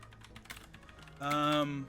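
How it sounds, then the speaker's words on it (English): Rapid clicking of computer keyboard keys, close and steady, with a brief voiced sound near the end. "Again, sorry for the keyboard."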